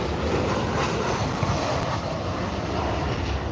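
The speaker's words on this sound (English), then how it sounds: "It's a Ryanair 737-800." A Ryanair Boeing 737-800 on landing approach into Liverpool Airport produces a broad, steady jet roar heard from outdoors, loud and unbroken throughout.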